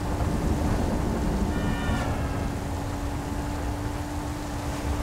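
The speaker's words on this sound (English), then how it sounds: "Oh, thunder as well." Thunder rumbles through a storm in GTA 5, under the constant hiss of heavy rain and a low steady engine drone. The thunder rolls in waves with no clear single crack.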